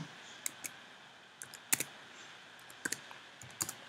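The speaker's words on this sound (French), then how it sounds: "Je vais taper son nom pour que je vois." A name being typed on a computer keyboard, with sparse, quiet key clicks in short clusters against a faint room hiss.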